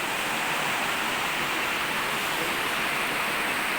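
A strong-flowing river roars as a dense, steady wash of rushing water, loud and continuous with no voices.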